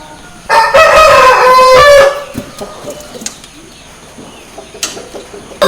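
An Aseel rooster on a chicken farm gives one loud, close crow lasting about a second and a half, followed by quieter scattered farmyard sounds.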